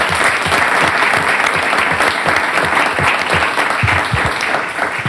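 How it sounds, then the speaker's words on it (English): Sustained applause from a city council meeting audience, a dense wash of many hands clapping steadily at close range for about five seconds, with no talk over it. "Let's give Mr. Cavambi a round of applause."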